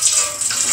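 Vinegar and food coloring dye liquid poured off from a container of fiber, a steady close gushing splash of running liquid with no talk.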